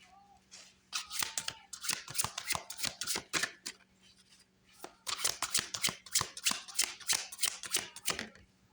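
Tarot cards are shuffled in two separate bursts of rapid riffling and flicking, up close and fairly soft, with a brief pause between bursts.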